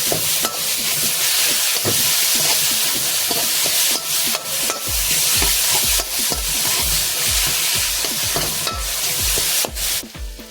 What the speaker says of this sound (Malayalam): തക്കാളി പേസ്റ്റോട് കഴിഞ്ഞ് നല്ല രീതിക്ക് മിക്സ് കൊടുക്കുക